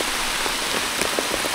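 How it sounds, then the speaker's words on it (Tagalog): Heavy rain pours down over open farm fields, a steady dense hiss with scattered louder drops landing close by. "Malakas yung ulan, malakas."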